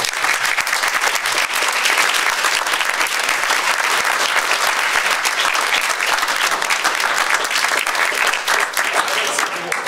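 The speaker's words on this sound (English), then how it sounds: "why don't you just give them a round of applause" An audience at a music forum applauds departing panelists, with steady, full clapping that stays loud and even for about ten seconds without a break.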